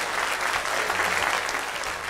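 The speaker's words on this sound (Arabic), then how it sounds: "أحسن تصفيق كبير لو سمحتم بحسن" A studio audience breaks into brisk, continuous applause, a dense even wash of clapping that holds steady from start to finish.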